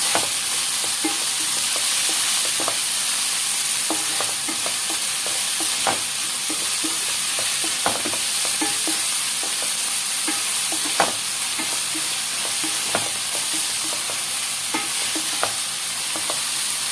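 Onions stir-fry in a pan for an egg omelet curry. A steady, loud sizzle carries on throughout, with frequent scraping clicks and taps from the stirring spoon and no talking.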